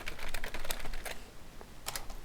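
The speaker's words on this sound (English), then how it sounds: "Just typing in random stuff." Computer keyboard clattering as random data is typed into a hex editor, rapid uneven bursts of close key clicks with a short pause and a final quick flurry.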